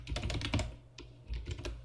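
Keys clattering on a computer keyboard while code for a Python OpenGL texturing program is entered, a steady close run of quick taps with a short pause in the middle.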